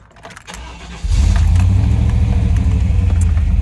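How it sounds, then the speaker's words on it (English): A 1995 Chevy Tahoe engine cranks and fires after about a second, then settles into a loud, steady exhaust rumble up close, with faint rattles beforehand. "let's start it up so you can hear the exhaust"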